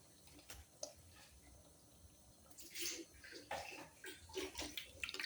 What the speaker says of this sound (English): Let me braise it with a little bit of water.